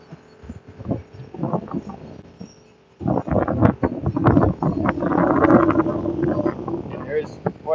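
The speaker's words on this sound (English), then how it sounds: "there is quite a bit of wind today" Gusty wind buffets the microphone at the SpaceX Starbase launch site in Boca Chica, Texas, a loud rumbling roar that surges after a brief lull, with a voice talking faintly underneath.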